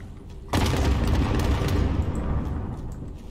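Gunfire in the video game Call of Duty Modern Warfare: a sudden loud blast hits about half a second in, then a dense rumbling volley slowly fades over the next few seconds, with no one talking.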